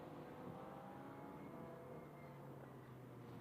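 A Ferrari GT race car at MotorLand Aragón stretches out down the back straight, a steady sustained engine drone with rising harmonic pitch, heard from a distance with no speech.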